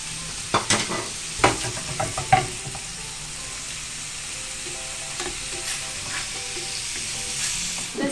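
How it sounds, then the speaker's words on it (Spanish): Mushrooms sautéing in a frying pan with a little oil make a steady, gentle sizzle. Scattered clicks of stirring come early on, and no one speaks. "Aquí tengo la sartén con un poquito de aceite. Yo lo voy a saltear las setas o los níscalos."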